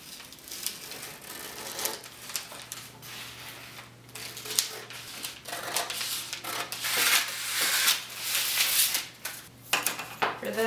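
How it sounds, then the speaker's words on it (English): Scissors snip through a paper sewing pattern traced from a shirt, making soft, irregular crisp cuts and paper rustles close by, with no voices. "So now I'm just going to cut out this pattern."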